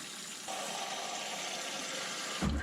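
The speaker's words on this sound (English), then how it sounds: "Put in about a half gallon of water." Cold water, about half a gallon, runs from a tap into a home-made ice cream maker, a steady near rushing flow that starts abruptly and ends with a low splash.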